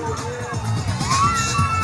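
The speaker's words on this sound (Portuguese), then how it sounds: "tu tá escutando o aplauso da galera, Henrique?" Crowd at an airshow cheering and applauding a ring-of-fire display at the Fesbraer festival in Gaspar, a steady roar of applause and shouts close by, with voices and babble mixed in throughout.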